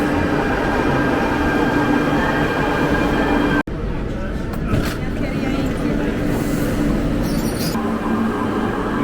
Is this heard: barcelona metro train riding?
yes